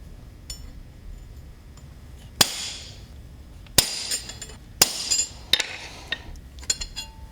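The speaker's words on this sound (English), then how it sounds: "When I prick punch the toe for the pins, I'm going to set those back from the edge of the shoe a little bit" A hammer drives a prick punch into a horseshoe during farrier work. There are several sharp, ringing metallic strikes at irregular intervals, each with a bright clanging decay. Smaller clinks sound between them, close and clear, and nobody speaks.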